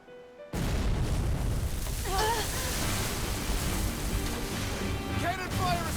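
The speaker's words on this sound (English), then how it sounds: "Cannon fire astern!" Deep booming cannon fire from a pirate ship in the video game Tales of Berseria rumbles heavily under game music, with sustained low blasts and a few brief vocal sounds mixed in.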